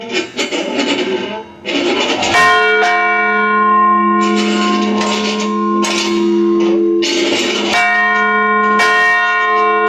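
A church bell cast by the Hooper company rings at a Congregational church: repeated loud metallic strikes with long sustained ringing tones that overlap and decay, heard up close with no talk.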